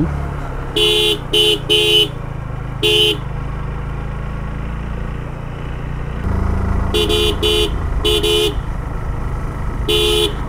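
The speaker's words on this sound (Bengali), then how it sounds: "প্রচুর হর্ন ব্যবহার করতে হয়, কারণ বিপরীত দিক থেকে যে কোনো গাড়ি চলে আসতে পারে" Car horn on a steep mountain road, sounding in short repeated toots, some single and some in quick pairs, loud and close over a steady engine drone that grows louder partway through.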